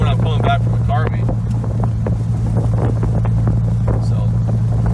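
A Dodge Viper's engine cruising on the road gives a steady, loud low drone that runs unbroken throughout, with wind rush layered on top and faint voice-like sounds briefly near the start.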